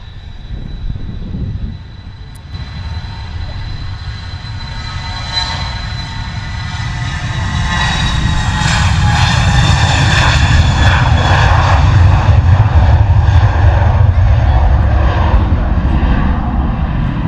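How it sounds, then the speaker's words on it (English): A TUI Boeing 737 jet at London Luton Airport, its engines roaring loud and close, swelling into a sustained full-power rumble about halfway through and holding there. "Oh, we've got a TUI 737 come out to join the party as well."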